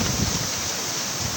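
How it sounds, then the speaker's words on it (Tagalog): Steady, loud wind roaring across the microphone at a campsite, a constant broadband rush with low buffeting gusts and no voices. "Malakas yung hangin."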